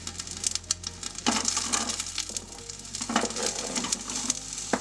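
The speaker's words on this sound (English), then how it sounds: "we are going to saute the carrots and the onions and the celery if you choose to add celery to yours" Onions and carrots, just added to a hot pan, sizzle and crackle steadily while being sauteed, with scattered clicks and scrapes of stirring over the continuous frying hiss.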